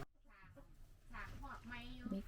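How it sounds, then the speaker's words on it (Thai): A hen clucks at a home in Norway, the short throaty notes coming mostly at the end and partly buried under steady talking. "มันคือไก่แม่ เออ ไก่"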